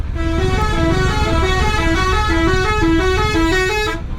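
A bus telolet horn honks loudly and close by in a traffic jam, playing a bright, melodic sequence of shifting notes that repeats without a break for several seconds over a low rumble of engines.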